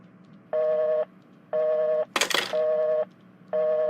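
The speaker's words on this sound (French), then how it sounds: "Je vais essayer de l'appeler." A phone line gives repeated half-second tones at an even pace with gaps between them, broken once by a short burst of noise, loud and close with no voices.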